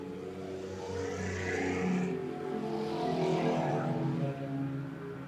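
USRA stock cars racing wide open on an oval track, a loud pack of engines roaring past in a sweeping swell that rises, peaks and fades slightly, heard from the stands.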